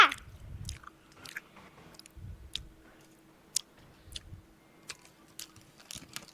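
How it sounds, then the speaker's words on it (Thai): Someone chewing food up close, with soft wet bursts of mastication recurring through the stretch alongside scattered small clicks and ticks, no talk. "เคี้ยวเมื่อไหรจะเสร็จวะน่ะ"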